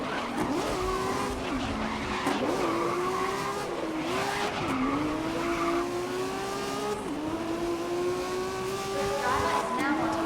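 Race cars in GRID (2019) roar past at full throttle, engines rising and falling through gear shifts with tire squeal and skidding, loud and continuous, with a voice talking over the racing.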